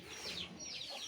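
A pet chicken clucks softly in a backyard among ducks and other pets, a few short low calls over a faint outdoor background, quiet and somewhat distant.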